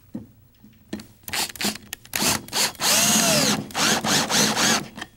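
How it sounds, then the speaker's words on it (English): A cordless drill fitted with a socket drives a lag screw in several close, loud bursts of motor whine, building to a sustained, straining run with short pauses and a slight pitch sweep as the screw seats. "This guy right here, fitted with a socket in, is strong enough to drive in even a lag screw"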